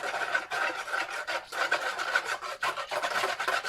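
Washing soda crystals being stirred into water to dissolve, a continuous gritty scraping and rubbing that pulses steadily and close by, with no voices.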